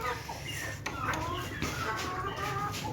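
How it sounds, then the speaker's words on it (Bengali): A flock of domestic chickens clucks softly through a continuous low background hum, several birds calling at once while they are fed. "দেখেন কত মুরগি আমার দেখছেন"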